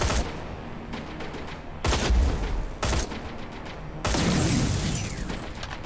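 Bursts of gunfire in the video game Terminator: Resistance: several loud, close volleys of rapid shots broken by quieter gaps, with the longest and heaviest burst at the end.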